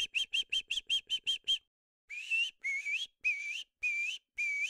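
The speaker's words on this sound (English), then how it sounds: "And here are birds." Bright, clear bird chirps: a rapid run of eight short notes, a pause, then five longer warbling whistles at a steady pace.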